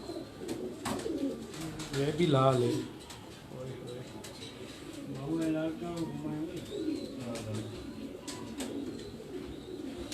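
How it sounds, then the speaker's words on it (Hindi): Pigeons coo in soft rolling bursts on a rooftop in Larkana, Sindh, close by, while someone talks over them throughout. "ये सारे अभी झड़ गए कबूतर"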